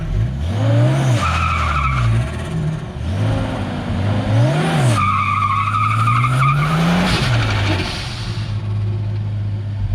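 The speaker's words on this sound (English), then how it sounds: "Bit of a shed skid for yous." A car skids inside a shed, its engine revving and dropping in repeated surges while tyres squeal and scrub against the floor, loud and close, with several bursts over the stretch.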